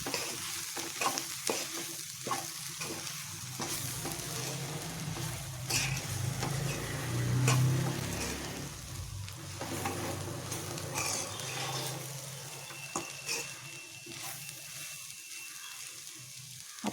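Grated coconut is stirred into a warm beetroot laddu mixture in a pan, producing repeated soft scraping and thick stirring strokes over a gentle sizzle, close and steady with no voices.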